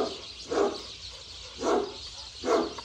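A dog whines and yelps in three short rising bursts spaced about a second apart, fairly close, with a hiss of background noise between them and no talk.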